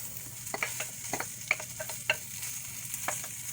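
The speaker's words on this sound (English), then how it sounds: "Mix it together well. Again, your fire should be on high still." Vegetables being stirred into toasted rice in a pan over high heat, a steady sizzle beneath a series of light spoon clicks and scrapes, close-up and moderately loud, with no speech.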